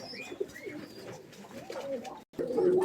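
Ornamental fancy pigeons coo softly nearby in a loft, low burbling calls repeating over faint background noise, with a brief drop to silence near the end.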